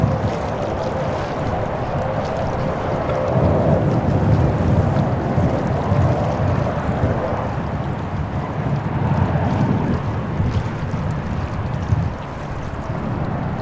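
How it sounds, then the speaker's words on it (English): Water noise picked up by an outdoor microphone at Sydney Airport: a steady, loud broadband rush like waves or wind on the mic, continuous for the whole stretch with slight swells and no voices. "We're getting a lot of water sound"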